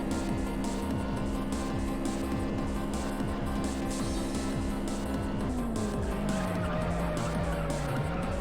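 An oversteering car races in the video game Juiced, its engine droning at a steady pitch that drops as the tires squeal and skid, loud and continuous with no talk.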